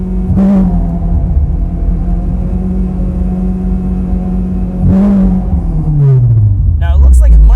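A Honda K24 engine holds a steady high idle, then revs up sharply under throttle twice, its pitch climbing and falling back before a final louder surge at the end.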